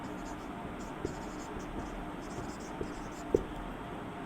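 A teacher writes out a math solution, producing faint, scratchy strokes with an occasional soft tap over a quiet room hiss.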